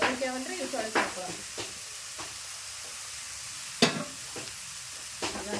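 Cluster beans sizzle steadily in a hot pan while a utensil scrapes and stirs them in several sharp, close bursts spread unevenly over a low continuous frying hiss.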